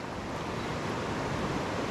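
A swift river current rushes past in a loud, steady broadband roar with no distinct splashes or pauses, close by and filling the whole short stretch without any voices.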